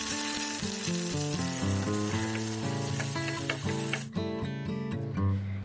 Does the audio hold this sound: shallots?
yes